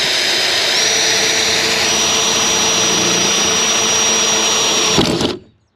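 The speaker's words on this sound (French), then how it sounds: "on fait des petits trous à la scie cloche" A hole saw drilling small holes whines in a loud, steady high-pitched run close by, then winds down and stops abruptly near the end.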